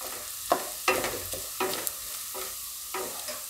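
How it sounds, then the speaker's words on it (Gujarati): Garlic frying in oil in a pan for dal palak, a soft sizzle broken by several sharp scraping stirs spaced about half a second to a second apart, close by. "થોડીક વાર આપણે આ રીતે તેલમાં ફેરવશું, સેજ લાલ થાય એવું લસણ."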